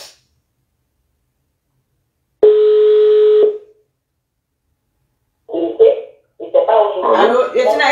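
A phone call is placed: after near silence, a single steady telephone tone sounds for about a second, followed by a pause and then people talking close by.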